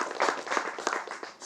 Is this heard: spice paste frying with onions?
no